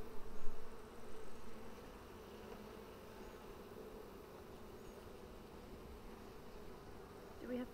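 Honey bees buzz around an open Flow Hive during a brood inspection, a steady, fairly soft hum with a few louder passes close by near the start.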